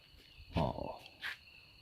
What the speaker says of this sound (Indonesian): Saya mendengar suara-suara serangga, jangkrik.